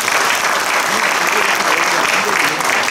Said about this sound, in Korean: 이 큰 역할을 맡으실 이 나득수 회장님과 사모님께 격려의 박수와 기대의 박수를